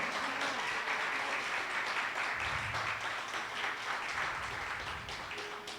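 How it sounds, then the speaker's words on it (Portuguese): A church congregation at a Holy Communion service applauds in a sustained, dense roar of clapping with a low rumble of voices mixed in, easing off slightly at the close. "se você está feliz por essa palavra, aplauda o Senhor, vai"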